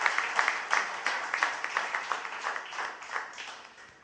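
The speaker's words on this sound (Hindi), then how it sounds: "इनके नाम से जोरदार तालियां आप स्वागत कीजिए" A crowd at a cultural performance claps to welcome the performers, a steady, fairly close patter of hands with rhythmic swells across a few seconds.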